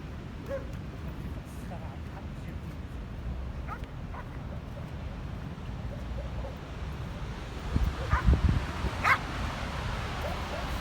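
A small dog barks and yips on a seaside beach while being taught to swim in the sea, with a few sharp barks standing out over a background of wind and surf.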